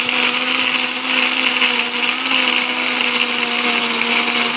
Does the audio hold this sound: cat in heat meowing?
no